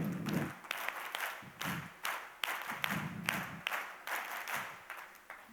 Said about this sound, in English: when I say claps go, we start, and we do it 3 times, and we stop